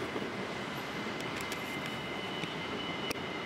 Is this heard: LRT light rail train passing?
yes